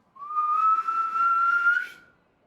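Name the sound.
person whistling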